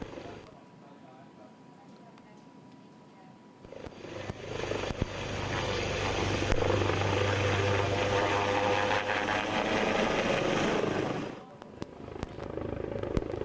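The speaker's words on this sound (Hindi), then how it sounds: "जैसे ही उनका विमान लैंड करने वाला था" A helicopter carrying a politician hovers and then sets down on a helipad, its rotor roar swelling loud and steady for several seconds before cutting off abruptly, with a faint drone continuing after.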